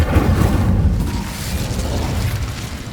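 Incendio fire spell cast in Hogwarts Legacy, a dense whooshing, booming burst of flame that rumbles steadily for a few seconds, loud and close.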